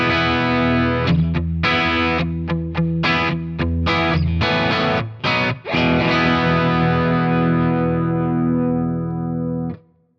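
Electric guitar played through the blue overdrive side of a Browne Ethane dual drive pedal, a loud, sustained distorted chord phrase with several quick stops and re-strikes, ringing out before cutting off near the end.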